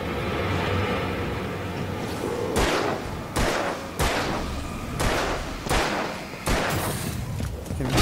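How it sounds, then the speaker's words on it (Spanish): Several sharp gunshots in the video game Alan Wake ring out in quick succession, punchy and loud, with a steady background hum between the blasts. "No puede ser que necesite tantos disparos para matarlo."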